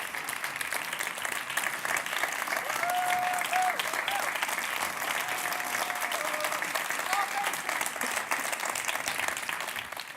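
Audience applauding award winners at a youth award gala, steady sustained clapping from a large crowd that fills the whole stretch without a break.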